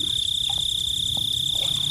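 Many baby frogs croak together in a steady, dense chorus with a constant high whine running throughout, close and continuous with no talking.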